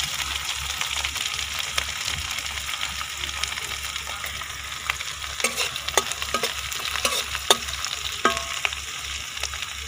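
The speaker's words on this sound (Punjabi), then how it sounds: "ਪਿਆਜ਼ ਭੁੱਜ ਗਿਆ, ਅਤੇ ਮੈਂ ਹਰੀ ਮਿਰਚ ਪਾਵਾਂਗੀ।" Onions and green chilies fry and sizzle in a pan while being stirred, a steady close crackle broken by repeated scraping and clinking strokes of the spoon, with no voices.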